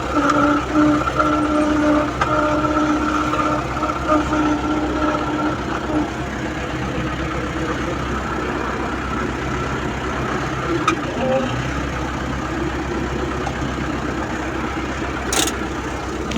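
A steady, low tractor engine idle rumbles without letup, close by, with faint mechanical rattles and a few brief clicks on top.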